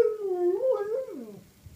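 A husky lets out a single short, close howl that wavers up and down in pitch, like talking, then trails off into a soft whimper.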